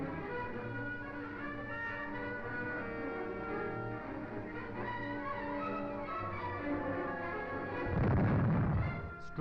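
Artillery guns fire in a 1942 wartime newsreel, a dense, continuous rumble of blasts with a heavier, louder burst near the end, with no talk over it.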